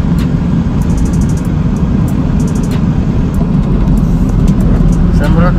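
A car rolling through the first toll plaza on the Samruddhi highway in summer heat, air conditioning on, gives a loud, constant low engine and road rumble with faint ticking above it throughout.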